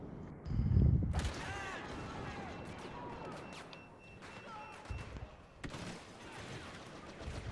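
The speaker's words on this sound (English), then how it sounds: "Boy, explosive shot." Explosive gunshots in a Star Wars video game, a deep blast near the start followed by scattered sharp shots and impacts among game effects, with some distant voice-like sounds.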